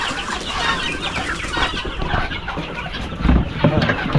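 Chickens cluck in short, close bursts with soft murmuring from the flock, one bird appearing sick, growing a little louder toward the end.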